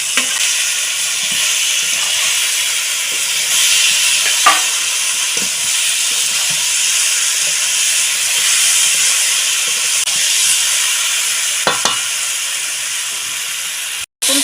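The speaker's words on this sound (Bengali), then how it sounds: "জিরের গুঁড়ো দিয়ে দেবো আলু আর পটল ভাজাটা দিয়ে দেবো দিয়ে ভালো করে কষিয়ে দেবো" Potato and pointed gourd pieces fry with cumin powder in a pan, a continuous close hiss and sizzle with occasional soft stirring knocks, steady throughout with no talk.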